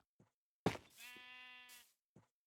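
A single sheep in a Minecraft-style block-building game gives one clear, drawn-out bleat, faint and isolated, with soft clicks just before and after.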